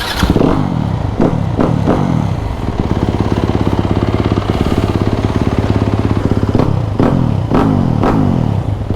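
A supermoto motorcycle engine cranks with several hard starter bursts and catches after being washed. It then settles into a loud, steady, throbbing idle close by, and more cranking bursts follow near the end.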